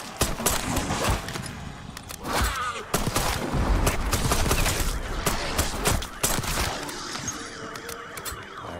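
Gunfire in a zombie survival video game set in Liberty Falls, with bursts of rapid shots and sharp cracks repeating over several seconds, loud and close.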